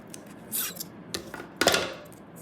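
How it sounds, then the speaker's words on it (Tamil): Scissors snip through folded paper while cutting out a heart shape, giving a few short, close, crisp cuts spaced irregularly over a couple of seconds. "இப்படியே வெட்டி எடுத்துடலாம்."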